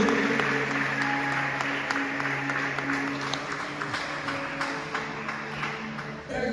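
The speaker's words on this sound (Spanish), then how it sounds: "Un aplauso para el ministro." Applause for a minister at a youth pre-congress in a Congregational church, a steady mid-level spread of clapping hands that carries on throughout, with music and other sounds underneath.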